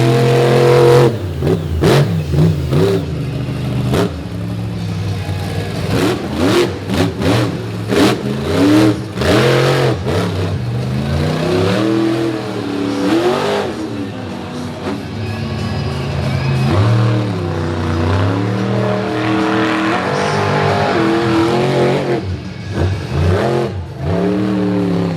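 The FTI Torque Ram monster truck's big engine revs hard at a beach monster truck show, with repeated loud throttle blips and surging wails that rise and fall throughout, close and continuous.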